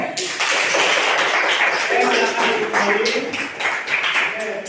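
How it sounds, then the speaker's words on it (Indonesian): A classroom audience claps for a student group's history presentation, a dense steady patter of hands filling the room while a voice speaks over it. "Iya, tepuk tangan."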